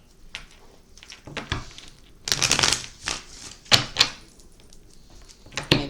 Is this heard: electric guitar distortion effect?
no